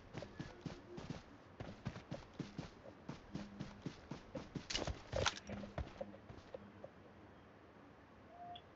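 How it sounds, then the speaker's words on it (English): Rhythmic horse hoof clip-clops in a video game, fairly close and steady, with some scattered thumps and brief background noises mixed in. "Horse!"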